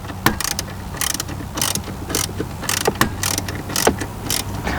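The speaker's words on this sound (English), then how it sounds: "We will now put the 10mm bolts back in place underneath the factory radio." 10mm bolts go back in beneath the factory radio of a Lexus GS, heard as a close series of quick ratchet clicks in bursts, with brief pauses between turns.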